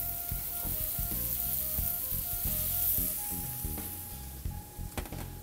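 Portobello mushrooms sizzling with translucent onions in a pan, a steady close crackle with a few soft knocks and scrapes as the pan is worked near the end, no speech.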